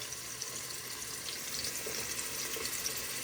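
Onion, ginger and garlic frying in a pot on a home stove, giving a steady, fairly quiet hiss and sizzle with a faint watery crackle that holds evenly throughout.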